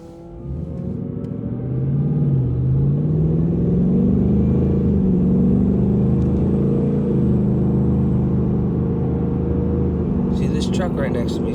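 Fast car pulling away and accelerating on the road, a deep engine rumble rising and whirring up through the gears, then holding a steady loud drone, heard from inside the vehicle.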